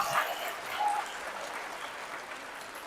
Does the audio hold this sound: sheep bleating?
no